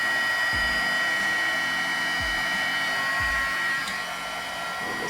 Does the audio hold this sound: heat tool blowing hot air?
yes